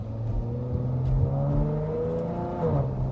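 A Dodge Challenger SXT Plus AWD engine revs close by, its low rumble climbing in pitch steadily and then easing off near the end.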